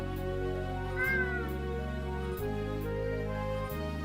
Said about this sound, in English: Miserable kitty.